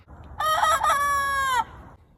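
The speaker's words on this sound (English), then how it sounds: "she got a little bit of footage on her cell phone of Big Jake doing his first crow" Rooster named Big Jake gives his first crow, a single rising then sustained call lasting about a second, close and loud, slightly odd and strained in tone, recorded on a cell phone.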